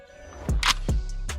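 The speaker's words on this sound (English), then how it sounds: "Let's send the bolt home." Metallic clacks of an AK-pattern rifle bolt on a PSA AK 556 being sent home, a few sharp close snaps in quick succession with a bright rattling click in between, no talking.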